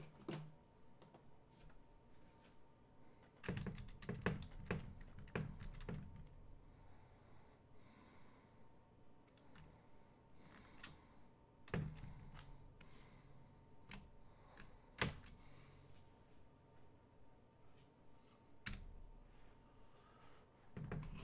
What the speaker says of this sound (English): I'll type it out.